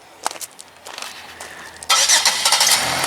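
A 2005 Chevrolet Impala's engine cranks and catches, a sudden loud start that settles into a steady idle after some faint clicks and shuffling.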